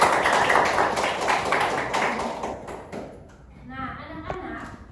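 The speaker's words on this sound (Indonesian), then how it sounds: "mari kita berikan tepuk tangan untuk anak Sally" Students in a classroom give a short round of applause for a classmate, a dense clatter of clapping that fades after a few seconds into quieter children's voices.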